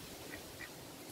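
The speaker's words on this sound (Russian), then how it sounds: "Утки, друзья." Ducks quack in two short bursts against a steady outdoor hiss, faint and somewhat distant in cold autumn weather, with no voices over them.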